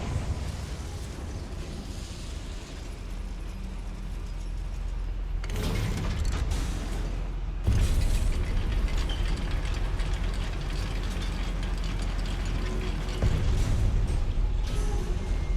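A mechanical lift rumbles and grinds steadily, with ratcheting clanks and a heavy jolt partway through, loud and continuous throughout.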